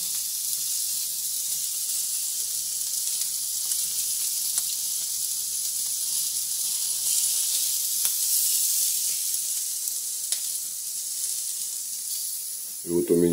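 Meat sizzles on a smokeless grill used indoors, giving a steady, dense hiss that runs unbroken throughout and swells slightly near the middle, ending with a brief louder knock.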